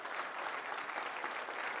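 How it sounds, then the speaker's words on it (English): An audience applauds steadily throughout, a dense continuous wash of clapping at a moderate distance with no voices, marking an extra round of applause for the Canadians at a NASA event on the James Webb Space Telescope. "the Canadians deserve an extra round of applause"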